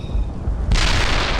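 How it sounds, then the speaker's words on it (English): A nearby artillery shell detonates in the WWII shooter Brothers in Arms: Earned in Blood, a low rumble suddenly breaking into a loud, broad blast that stays heavy to the end. "That shell is too fucking close."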